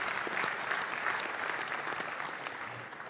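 Conference audience at an Azure Storage technical session breaks into applause, a dense, even wash of clapping from a large crowd lasting a few seconds, with no talk over it.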